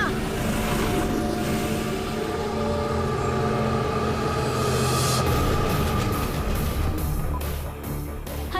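A cartoon train engine runs with a loud, continuous rumbling drone and rattle that holds steady throughout, close and without pause.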